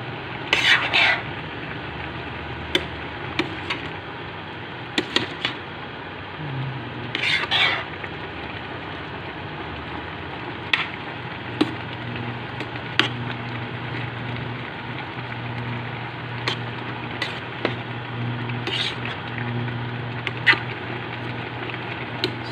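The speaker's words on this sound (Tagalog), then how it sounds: "Nandahan lang ang pagano, baka madurog ang ating mga gulay sa ilalim. Ayan, haluin na lang." Cooked vegetables are stirred in a pan with a utensil, giving sparse clicks and scrapes against the metal over a quiet low hum, with a few louder rustling bursts.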